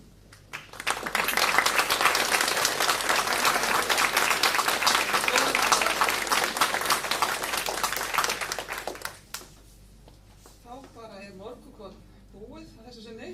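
Loud library audience applause swells quickly and holds steady for several seconds, then fades out as a person begins speaking.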